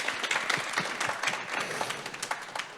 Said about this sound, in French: applaudissez-le bien fort, s'il vous plaît